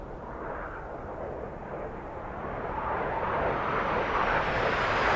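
Three aerobatic planes flying the Magnum formation at an airshow, the lead inverted, make a steady broadband engine roar that swells gradually as they approach, with no talk.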